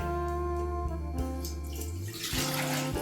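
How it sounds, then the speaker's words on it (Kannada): Water is poured steadily into a pressure cooker as the first step of cooking soaked peanuts for usali, a continuous close splashing with no talk, its pitch shifting as the vessel fills. "ಮೊದಲು ಒಂದು ನಾಲ್ಕು ಕಪ್ ನೀರು ಹಾಕ್ತೀನಿ"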